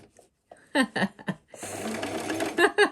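A sewing machine stitching trim starts after a few spoken words, its close, steady mechanical whirr running for over a second before more talking over it.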